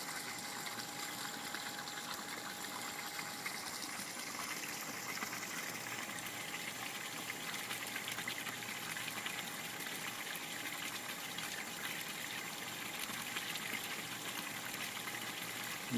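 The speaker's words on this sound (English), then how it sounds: "There's a waterfall, and this is a dwarf Japanese maple." A small waterfall in a garden koi pond splashes and trickles continuously, a faint steady stream of falling water with a low pump-like hum and no voices.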